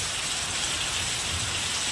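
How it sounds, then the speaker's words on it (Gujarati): Heavy rain falls in a dense, unbroken roar, close and loud, with no voices. "વરસાદ વરસી રહ્યો છે, ઘણો બધો વરસાદ વરસી રહ્યો છે."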